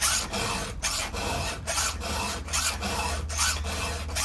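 A badly damaged chainsaw chain is sharpened by hand with a file, making a steady run of close rasping strokes, about a dozen back-and-forth scrapes in an even rhythm.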